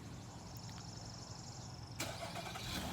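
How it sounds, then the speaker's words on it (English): A 2019 Nissan Murano Platinum FWD sits quietly with a faint electronic whine, then its engine cranks and catches via remote start, settling into a low idle. "It does have remote engine start."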